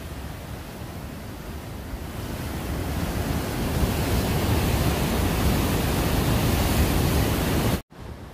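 Roaring, powerful waterfall in Yosemite on the way to Vernal Falls along the Mist Trail: a dense, steady broadband rush that swells slightly and holds loud, then cuts off abruptly near the end.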